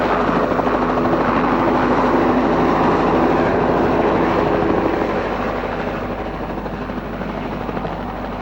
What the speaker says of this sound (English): flown to Royal Newcastle Hospital by rescue helicopter